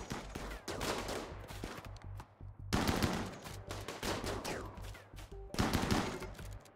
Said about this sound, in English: give him some of that chain shotgun action